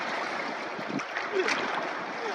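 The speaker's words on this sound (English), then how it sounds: "The waves are huge." Large waves on one of the Great Lakes during a long canoe trip wash and churn in a steady, fairly loud rush of water mixed with wind, with no voices.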